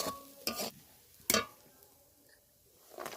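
Vegetables and nuts for chira pulao (flattened rice pilaf) stirred in a frying pan, giving a few scraping stir strokes over a soft sizzle, with quiet gaps between them.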